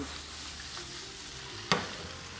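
Madras curry browning in a pan, a steady close sizzle and hiss of frying with a single sharp clack of a utensil partway through.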